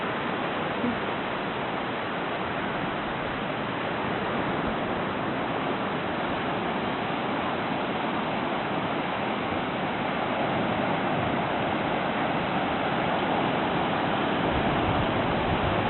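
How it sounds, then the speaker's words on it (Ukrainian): Steady, dense wash of sea surf rolling on without a break at a beach, like waves breaking continuously along a nearby shore. "море шумить, подивіться, як гарно"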